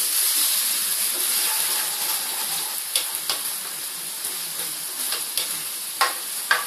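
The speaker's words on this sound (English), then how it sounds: "Simmer that, turn the heat down." Tikka masala sauce simmering in a pan gives a steady soft sizzle and bubbling hiss, with a few faint stirring clicks and pops, close and fairly quiet, with no talk.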